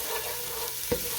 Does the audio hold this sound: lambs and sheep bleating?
no